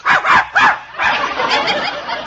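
Dog barks as a radio-play sound effect: three quick, sharp yaps close together, then a longer run of softer, whining bark-like yelps, near and fairly loud.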